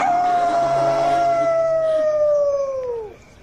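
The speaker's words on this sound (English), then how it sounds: "the beast appears atop the highest peak in town and howls his warning" A beast howling at the full moon from a high peak, one long loud drawn-out howl that slowly falls in pitch and fades near the end.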